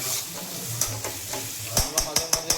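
Masala with a pinch of sugar fries in oil for paneer bhurji, a close, steady sizzle broken by a quick run of sharp spoon scrapes and clacks against the pan toward the end.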